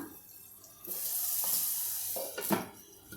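Curry leaves crackle and pop in hot oil while brinjal bhurta is cooked, a soft close-up sizzle with a few louder bursts of spitting.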